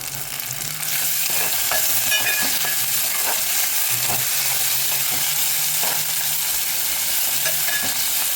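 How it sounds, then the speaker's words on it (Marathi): Tomatoes and mushrooms being sautéed in a hot pan for a mushroom masala, giving a loud, continuous sizzle with occasional scrapes and taps of a spoon stirring them, no voices. "टोमॅटो ॲड केल्यानंतर आपल्याला हे छान असं परतून घ्यायचं आहे."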